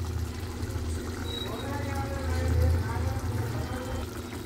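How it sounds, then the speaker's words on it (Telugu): Water pours into a cooking pot while making chicken liver fry, a steady trickling fill under kitchen background noise, with no talk. "కొంచెం వాటర్ వేసుకుంటున్నా."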